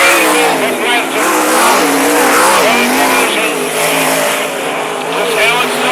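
Sprint cars roar around the dirt oval at Mac's Speedway, engines loud and continuous with rising and falling pitch as the pack passes, a commentator talking over the racing noise.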